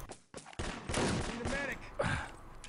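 A fast burst of gunfire in an Enemy Territory tournament match, dense and continuous over a couple of seconds, with mixed in-game sounds under the shots.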